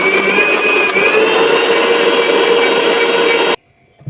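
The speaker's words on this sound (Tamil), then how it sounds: "இப்போ வந்து நம்ம இதை மிக்ஸி ஜாரில் போட்டு நல்லா அரைச்சிக்கலாம் நைஸாக." A mixer grinder grinds lentil batter, whirring loudly and steadily at close range, a harsh high-pitched grinding that runs continuously, then stops abruptly.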